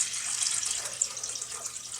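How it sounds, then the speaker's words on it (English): Water pours steadily from a container into the water reservoir of a mochi-making machine, a continuous close splashing rush for about two seconds with no talk. "Anyway, you add some water."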